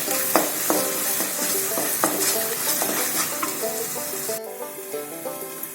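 A spoon stirs roasted chicken curry (varutharachathu) in a pan, bumping and scraping in irregular knocks over a steady close sizzle of frying masala, with no voices.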